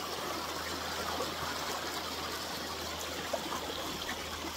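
A strong river current rushes over mossy rocks, a dense continuous roar of flowing water heard up close with a faint low hum underneath and no talking.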